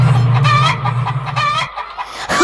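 Caged chickens in a cartoon give loud, close, rapid clucks and squawks that overlap, with no talking.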